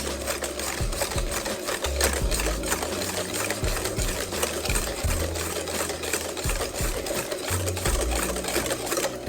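An electric mixer whips egg yolks and sugar until light and frothy for a honey cake, a continuous close motor whir with an uneven chattering rhythm throughout, no voices.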